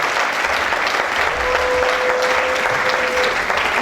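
A church congregation claps steadily and continuously, a dense, even wash of applause with a faint sustained tone partway through.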